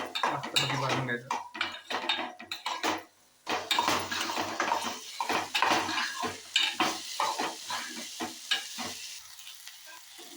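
Onion roasts in a pan with cumin for a soya chunks dish, giving a sizzling frying hiss broken by repeated clattering scrapes of a spoon stirring against the metal pan, close and fairly loud, with no talk.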